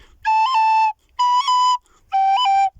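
A descant recorder plays three clear, sustained notes of Egan's Polka in Irish style. Quick finger cuts briefly flick the pitch up within each note, and short silent gaps separate the notes.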